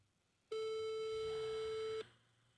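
A single steady telephone ringing tone sounds while a call is being placed. It is one clear, loud, unbroken burst of about a second and a half, with silence before and after.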